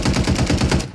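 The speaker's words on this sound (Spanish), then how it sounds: "Hay otro equipo aquí disparando." Rapid automatic gunfire from an enemy team in Call of Duty: Warzone, a fast, even burst of loud shots lasting under a second.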